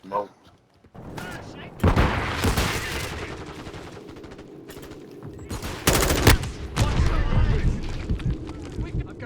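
Bursts of automatic weapon fire in Call of Duty: Modern Warfare II on PS5, loud rattling volleys and booming shots coming in waves over a rumbling game background, with a voice talking faintly at times.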